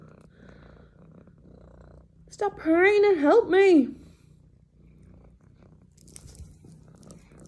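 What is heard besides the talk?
pet cat Pepper purring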